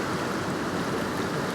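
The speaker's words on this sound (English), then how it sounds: "I've got this running water" Running water of a waterfall stream at Glen Etive, a steady broadband rush that stays close and even throughout, with no voices over it.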